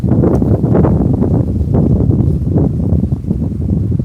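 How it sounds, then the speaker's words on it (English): Strong outdoor wind buffeting the microphone, a loud continuous low rumble that surges and eases throughout with no talk. "It's windy out here."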